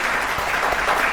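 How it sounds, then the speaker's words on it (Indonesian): A brief burst of clapping from a small group of quiz show participants, dense and fairly close, lasting only about a second. "Tepuk tangan dulu lagi"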